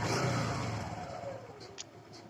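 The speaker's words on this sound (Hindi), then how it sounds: "देखो सेल्फ दबाएंगे, बाइक स्टार्ट हो जा रही है, जरा से भी इंजन में आवाज नहीं है।" A Suzuki Gixer motorcycle engine, fired up on its electric self-starter, runs at a quiet, smooth idle with a faint steady hum and a few brief high ticks.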